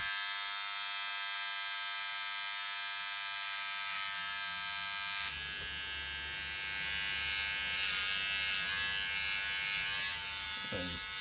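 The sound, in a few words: electric razor trimming beard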